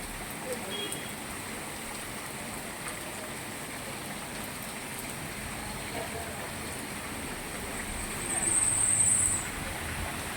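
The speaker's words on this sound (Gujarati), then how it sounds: "વરસાદ સારો જ છે હો ચાલો" Heavy monsoon rain in Gujarat falls as a steady, broad hiss of water, constant and fairly faint throughout, swelling slightly louder near the end.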